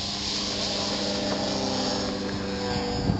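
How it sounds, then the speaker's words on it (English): A six-pound RC Extra 300 model airplane flies close by, its propeller and engine drone loud and steady throughout with no talking. "Here comes the plane."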